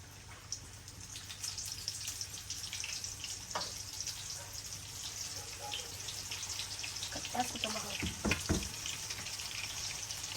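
Battered KFC-style chicken wings drop into hot frying oil at home, setting off a steady bright crackling sizzle throughout. A few louder splashes and bubbling bursts come near the end, with faint voice under it.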